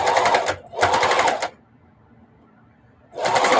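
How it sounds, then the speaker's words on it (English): A domestic sewing machine stitches around a small quilted mug rug in two loud motor bursts, pauses briefly, then starts again after a quiet gap, alone with no talk. "I'm just stitching around here"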